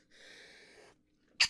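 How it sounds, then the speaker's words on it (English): After a soft, breathy hum, a single sharp human sneeze bursts out close to the microphone, loud and brief in an otherwise quiet room. "I gotta sneeze"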